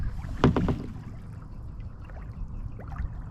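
On Lake Weir, a kayak paddle splashes once or twice near the start, followed by gentle water lapping and soft trickles.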